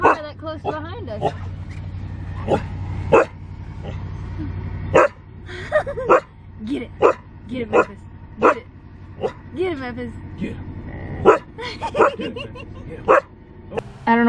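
A husky barks and yips repeatedly from inside a moving vehicle at a car following close behind, sharp loud bursts in irregular runs over a low road rumble.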